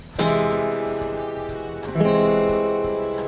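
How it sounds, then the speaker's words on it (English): Two augmented piano chords struck one after another, each left to ring and slowly fade. "Augmented sounds like this."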